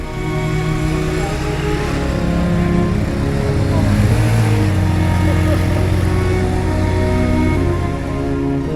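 A small, worn-out motorcycle hums and drones steadily while riding through narrow streets, its engine noise loud and continuous with no talk over it.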